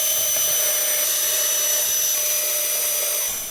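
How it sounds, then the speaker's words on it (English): A drill boring pilot holes through the bottom of kids' book bins into 2x2 wood, a steady high whine held close and loud for a few seconds, easing off at the end. "just going around and making some pilot holes"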